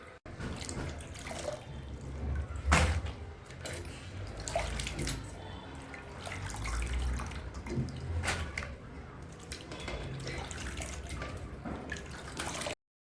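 Potato slices for homemade chips being rinsed by hand in a basin of water, with steady sloshing and dripping splashes, a few sharper splashes standing out, close and fairly loud with no talking.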